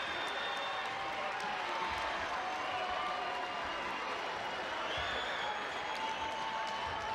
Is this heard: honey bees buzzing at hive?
no